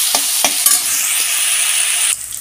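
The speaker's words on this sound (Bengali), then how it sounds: "দিয়ে এবার আলুটাকে ভেজে নেবো ভালো করে" Potatoes fry in a pan with salt and turmeric, a loud steady sizzle broken by a few sharp scrapes of stirring before the hiss drops away near the end.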